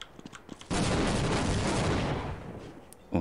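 A grenade explodes in the video game Half-Life, a sudden loud blast that roars on for about a second and a half before slowly fading, with brief game sounds before and after.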